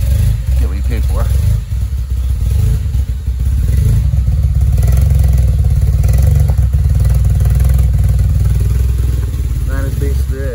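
An Acura RSX with a swapped K24 engine running through an aftermarket race header and a cheap exhaust, a loud, rough idle with clattering and a few light revs, close by in a garage, with talk over it.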